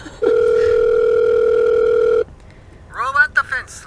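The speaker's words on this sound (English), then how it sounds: "God, that sounds like a real phone." A telephone signal in the video game Murder on the Orient Express: one loud, steady electronic tone held for about two seconds, then it cuts off and a voice begins speaking.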